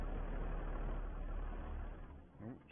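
A farm tractor engine runs at a steady low idle in grass-rolling work, a continuous close rumble that eases slightly near the end, with no talk.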